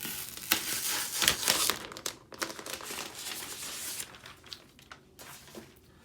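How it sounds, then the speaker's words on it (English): Plastic film crinkles and tears as it is peeled off a new 2019 MacBook Pro with Intel Core i9: close, steady crackling for several seconds, louder at first and then thinning into scattered crinkles. "let's peel off the plastic"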